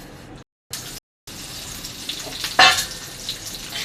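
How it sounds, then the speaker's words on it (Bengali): Chopped onion, green chili and garlic frying in oil in a pan, a steady close sizzle broken by brief cuts, with a sharper scrape or stir near the middle. "এগুলো ভেজে নিব।"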